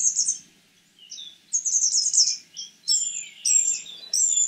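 A gnatcatcher sings a varied string of high, thin phrases and chirps, mimicking other birds' songs and switching between different song patterns with short pauses between them.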